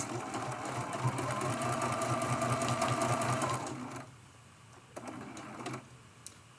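Sewing machine stitching a quilted fabric cookie cutter ornament, a steady fast mechanical whir running loud for about four seconds, then stopping, followed by a couple of short stitch bursts and light handling.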